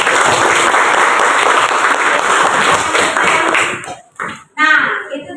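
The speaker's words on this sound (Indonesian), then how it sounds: "Ya, kita berikan tepuk tangan." Loud group applause in a classroom coaching session, dense clapping for several seconds that stops abruptly, followed by a brief voice speaking.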